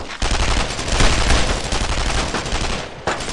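Sustained gunfire fills a World War II battle in the video game Brothers in Arms: Road to Hill 30, a dense, loud barrage of rifle and machine-gun shots that runs continuously, with a sharp fresh burst near the end.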